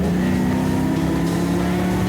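Lifted 2014 Chevrolet Silverado pickup carrying the back half of an MR2 in its bed, accelerating up a highway on-ramp: a steady, loud, low engine drone with a humming drivetrain and road roar, close and continuous with no talking.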